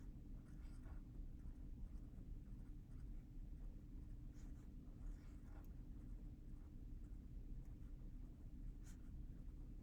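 Marker or pen writing by hand on a board or paper while drawing a chemistry skeleton structure, a steady, faint scratching and squeaking over a constant low hum for the whole stretch.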